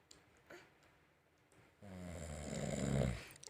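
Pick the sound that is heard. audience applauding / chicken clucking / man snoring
man snoring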